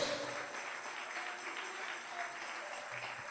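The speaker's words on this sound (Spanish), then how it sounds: "Dale un aplauso al Señor con todo tu corazón" A church congregation applauding, a steady, faint wash of many hands clapping that continues evenly throughout without pause.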